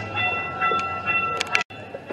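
A train passes a railroad crossing near a seaside boardwalk, its steady rumble joined by tonal horn or bell-like ringing, with a brief drop-out near the end.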